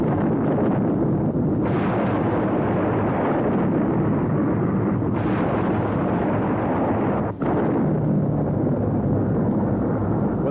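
A naval ship's guns fire together in a broadside at sea, a loud sustained roaring blast that rolls on continuously, with brief dips between the heavy waves of sound.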